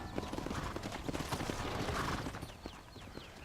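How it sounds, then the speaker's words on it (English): Horse hooves clip-clop in the video game Red Dead Redemption, a brisk, fairly close run of irregular thuds at a walking pace that fades slightly toward the end, with a few faint metallic jingles. "Hit your horse and wait for me by the stable."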